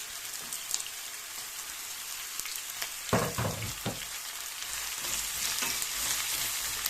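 Chopped onion and garlic sizzling in hot oil in a pan, a crackling fry with a few sharp stirring scrapes in the middle, close and fairly quiet, no talking.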